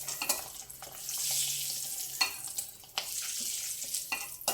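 Frying in a pan for tomato egg curry: a hissing sizzle with repeated clattering stirs and scrapes, close and fairly quiet.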